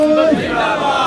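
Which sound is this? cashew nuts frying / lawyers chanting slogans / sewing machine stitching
lawyers chanting slogans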